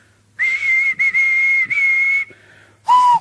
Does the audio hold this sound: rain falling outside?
no